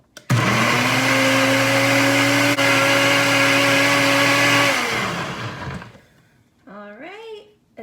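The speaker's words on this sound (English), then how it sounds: "Tighten it up and put it on our blender." A kitchen blender whirs loudly and steadily for about five seconds as it mixes a green eggs mixture, then winds down; a brief voice follows at the end.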